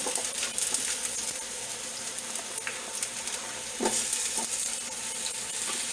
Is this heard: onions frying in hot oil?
yes